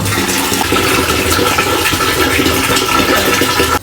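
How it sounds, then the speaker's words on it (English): A washing machine drains, sending a loud continuous rush and gurgle of water that holds steady throughout, close up, then cuts off abruptly at the end. "Let me drain the water."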